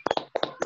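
A small audience applauds a speaker after a webinar talk, a brief burst of light, fairly soft hand claps in a quick irregular patter, close and without voices.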